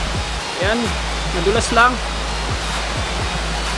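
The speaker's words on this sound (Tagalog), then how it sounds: "Yan po ang Sulcok Falls" Solsok Falls waterfall in Vintar, Ilocos Norte, giving off a steady, close broadband rushing roar that continues throughout, with voices talking over it.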